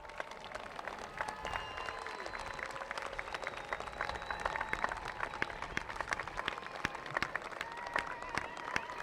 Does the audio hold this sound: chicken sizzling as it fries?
no